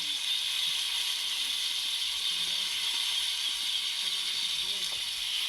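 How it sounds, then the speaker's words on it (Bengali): Tilapia fish frying in a pan outdoors in the sun, giving a steady, close, even sizzling hiss that carries on without a break from start to end. "দেখেন মাছ ভাজি, তালাপিয়া মাছ আনছিলাম, ভাজি করতেছি।"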